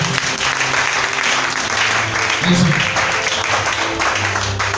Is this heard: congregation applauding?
yes